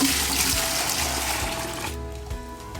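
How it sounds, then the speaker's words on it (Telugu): Liquid fertilizer pours into a 10 litre bucket in a flower garden, a steady splashing water stream that runs for about two seconds and then eases into lighter trickling, close and fairly loud with no talk. "ఒక బకెట్ నిండా నీళ్ళు వేసి డైల్యూట్ చేసి"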